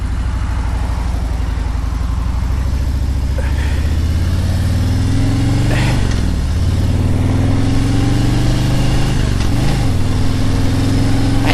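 A car engine idles in busy Saturday traffic beside a flooded Chattahoochee River, a steady low rumble running throughout with revs rising twice, around the six- and ten-second marks, under faint background voices.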